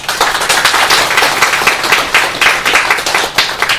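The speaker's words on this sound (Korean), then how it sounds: "다시 한번 우리 박영호 박사님께 큰 박수 부탁드립니다." Loud, close applause for a keynote speaker at a climate change adaptation policy workshop in Korea, many hands clapping densely with slight swells in intensity throughout.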